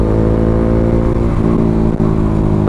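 A Bajaj Dominar 400 UG2 motorcycle fitted with a custom 61mm exhaust pipe revs close by, a loud continuous rumbling engine note with small throttle swells and a brief dip near the end, no talking.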